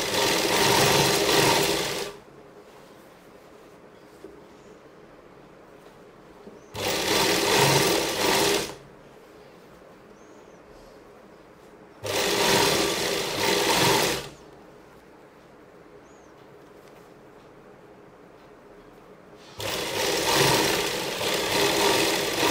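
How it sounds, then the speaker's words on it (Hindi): Sewing machine stitching fabric around the armhole of a pregnancy dress, running in four loud bursts of a couple of seconds each, separated by quiet pauses. "अब इसे हम इस तरह सिलाई लगा देंगे पूरे आर्म होल में।"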